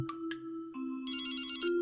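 Electronic phone ringtone chiming in the SnaggeMon grunt dating sim, a bright repeating tone pattern that is clear and steady, shifting midway into a denser, higher ringing with no voices.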